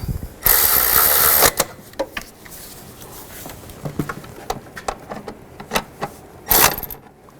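A ratchet clicks in short bursts while tightening valve cover bolts on a 2005-2015 Nissan Xterra, alongside metallic clinks and scrapes of tools, with a couple of louder rattling passes.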